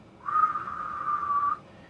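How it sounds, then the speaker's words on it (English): A person whistles one steady, nearly pure tone close to a sine wave, held level for over a second, then stops, with only faint background hiss around it. "If I were to whistle,"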